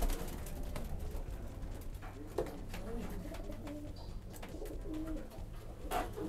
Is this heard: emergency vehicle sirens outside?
no